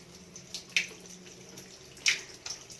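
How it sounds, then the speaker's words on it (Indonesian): Running tap water splashes as hands are washed beneath it, a soft steady trickle broken by a few brighter splashes and clicks, close and quiet with no talking. "cuci tangan di air mengalir"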